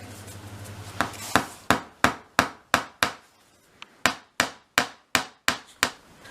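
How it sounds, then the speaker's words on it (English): A hammer strikes repeatedly while a dolls house rug is fitted, about fourteen sharp, close, evenly spaced taps with a short gap partway through, and no talking. "I haven't filmed all of the hammering, obviously because it's such an awful sound"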